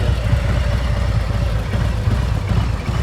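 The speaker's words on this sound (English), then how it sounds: "Listen to that engine." Motorcycle engine idling and puttering at low speed during slow-speed riding practice in Ohio, a steady low rumble that stays close and even throughout with no talk.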